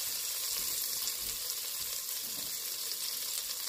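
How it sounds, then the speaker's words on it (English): Onions seasoned with salt and pepper sauteing in a pan for potato soup, a steady close sizzle and frying hiss running without a break, with no one talking. "I'm just going to saute these for just a few seconds."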